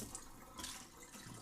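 Running water rinses salt off a fish fillet at a kitchen tap, a steady close splashing flow with brief surges, alone without talk.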